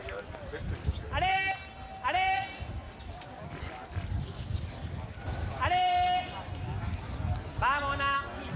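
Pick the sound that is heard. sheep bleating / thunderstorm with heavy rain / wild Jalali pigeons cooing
sheep bleating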